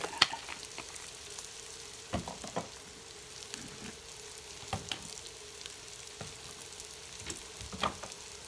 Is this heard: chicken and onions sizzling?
yes